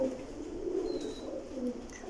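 Breeder pigeons give low, steady cooing from close by, a warm continuous murmur with gentle swells and no talking.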